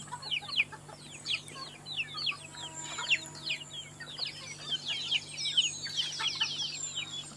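Many free-ranging backyard chickens cluck and chirp together in a busy flock, moderately close, over a faint steady hum.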